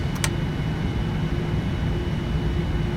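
Boeing 787 jet engines spooling toward takeoff thrust in Flight Simulator X, a steady loud broadband roar with a low rumble and a sustained hum, constant throughout and with no voices.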